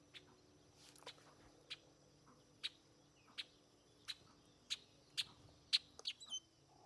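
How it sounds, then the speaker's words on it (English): Orchard orioles call near a garden feeder, sharp chirps repeating roughly every half second and growing louder and quicker toward the end, with no other sound. "There's a couple orchard orioles."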